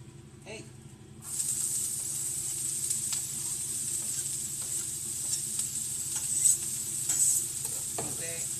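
Food sizzles steadily in a hot pan while a sauce is being cooked, a continuous moderately loud frying hiss with occasional stirring scrapes running alone for most of the stretch.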